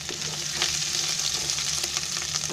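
Curry leaves dropped into hot oil with chopped ginger and garlic, giving a loud, continuous close-up sizzle and crackle with no voices.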